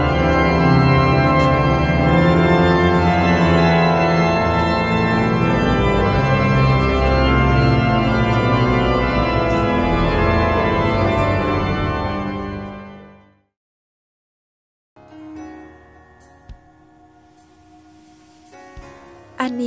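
Rich live music from a ceremony fills the vast interior of Cologne Cathedral, dense and loud for about thirteen seconds before breaking off into silence, followed by fainter, scattered sounds of the space.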